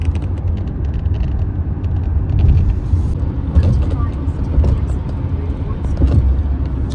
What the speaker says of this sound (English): This is the Lincoln Tunnel, named after George Lincoln, the first president.